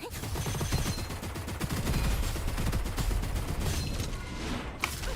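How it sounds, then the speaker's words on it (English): A gun in a roguelike shooter emptying its magazine, a rapid, steady burst of sharp repeated shots lasting several seconds, loud and close, trailing off into a few scattered reports at the end. "we're gonna empty our mag into him"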